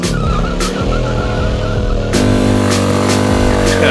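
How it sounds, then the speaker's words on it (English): A motorcycle does rolling burnouts to overheat the tire during a drifting lesson, with a loud, sustained engine drone and tire screech that steps up in pitch partway through, close by. "You're gonna do some rolling burnouts."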